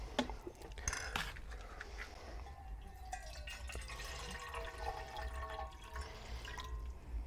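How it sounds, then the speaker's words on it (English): Water runs into a cooking pot for rice from a tap or container, heard as faint splashing and trickling with some drips, fairly close, with scattered handling clatter and no voices. "Can you fill it up about halfway with water?"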